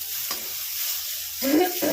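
Okra frying and being stirred in a hot pan, a steady close sizzle with spatula scrapes and a louder burst of frying near the end, no voices.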